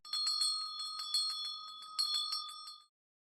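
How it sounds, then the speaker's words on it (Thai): A bright metallic bell rings in rapid repeated dings for about three seconds, close and clear, then stops abruptly into silence. "ต้น ขึ้นรถจักรยาน และปั่นตามเสียงกระดิ่งไป"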